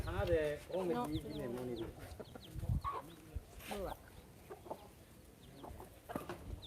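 Chickens cluck and chatter close by, with a voice talking over them at the start.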